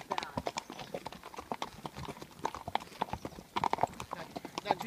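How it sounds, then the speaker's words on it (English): Horse hooves clip-clopping steadily during a trail ride in the USA, close and rhythmic, with people talking over the plodding beat. "I'm riding a horse."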